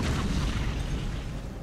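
Titan Shockwave attack explosion in the video game Batman Arkham City: a dense, loud, sustained boom with a rumbling, roaring body that fades slightly over under two seconds, with no talking.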